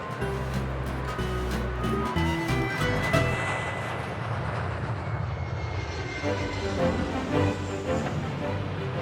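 An EasyJet airliner comes in to land on a clear day, with a loud, steady roar of engines and rushing air that fills the whole stretch without a break.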